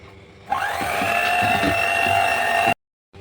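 An electric hand mixer whirs steadily, beating eggs, sugar and oil into cake batter, starting abruptly and running at a constant high-pitched drone with faint rattling before cutting off.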